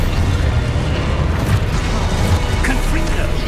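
Expulso explosion spell cast in Hogwarts Legacy, a wizarding action game: a loud, rumbling blast roars steadily through the whole moment, heavy and close, with crackling debris over a deep booming low end.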